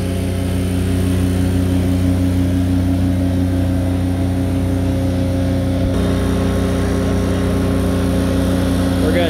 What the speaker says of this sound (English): We're going to demonstrate how this baby works in the Vactron.